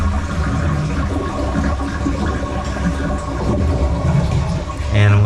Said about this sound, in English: Then I'm going to go ahead and flush the toilet to drain the tank.